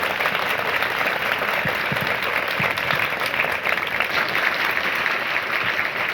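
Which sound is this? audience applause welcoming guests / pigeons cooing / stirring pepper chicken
audience applause welcoming guests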